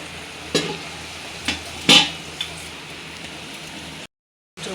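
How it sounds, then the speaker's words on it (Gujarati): A vegetable tempering sizzles in a pan with a soft steady crackle, broken by a few sharp stirring clatters near and fairly loud, then a brief cut to silence before the sizzle returns. "મસ્ત વઘાર થઈ ગયો છે શાકનો"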